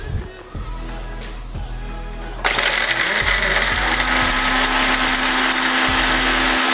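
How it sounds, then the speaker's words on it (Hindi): Whole spices, black cardamom, green cardamom and cumin, first rattle and clink against a grinder jar like dropped coins, then the motor starts and roars loudly and steadily as they are ground. "बड़ी इलायची, छोटी इलायची, सब्ज़ इलायची और ज़ीरा। इन सब चीज़ों को हम ग्राइंड करेंगे।"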